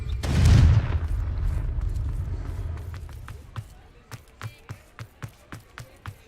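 A Confringo blast spell in Hogwarts Legacy goes off as one loud, close booming explosion that tails into a rumbling decay, followed by a steady run of soft, evenly spaced footsteps.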